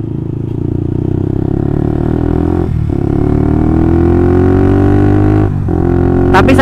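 Old Honda CB150R motorcycle with a DOS full-system muffler exhaust, a loud, close engine note rising steadily in pitch as it revs, with two brief dips in the note and a clattery tone throughout.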